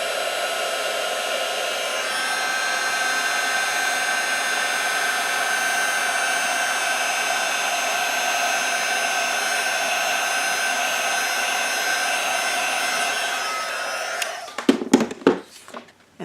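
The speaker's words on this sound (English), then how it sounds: "I'm going to go ahead and heat set this again." A heat tool blows a steady, loud whooshing roar for around fourteen seconds while setting clear embossing powder on a papercraft piece, then cuts out into a few quick clattering knocks.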